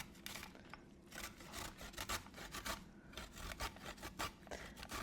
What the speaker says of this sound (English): And then you just take your cheese grater.